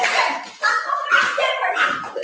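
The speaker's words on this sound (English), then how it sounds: "And why all these damn dogs?" Dogs bark and yip in quick, overlapping bursts, fairly close and loud, with a brief whimpering tone between barks.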